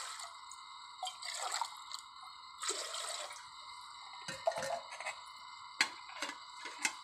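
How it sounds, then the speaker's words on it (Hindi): Water goes into a cooking pot in a village-style Punjabi kitchen for jaggery rice, heard as intermittent splashes and drips in short bursts over a steady tonal background. "ये हम पानी डालेंगे इसमें।"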